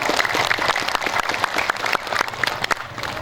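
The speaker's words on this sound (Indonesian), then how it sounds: "Tepuk tangan untuk beliau." Audience applause at a large evening Islamic religious gathering for Muharram, a dense, steady patter of many hands clapping close and loud for about three seconds, with no talk over it.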